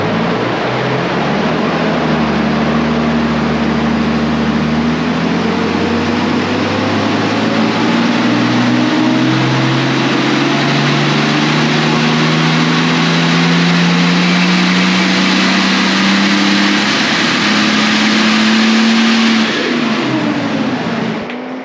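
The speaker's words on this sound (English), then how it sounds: "and it's back on the dyno, ready to go." A boosted Toyota TB42 engine runs hard on a chassis dyno, a loud close roar that climbs steadily in pitch through a long sustained pull before easing off at the end.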